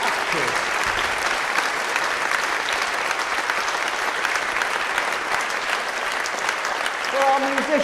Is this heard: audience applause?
yes